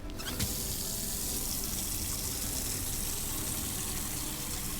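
Water running steadily from a tap into a container in Autopsy Simulator, a continuous close splashing gush with no talking.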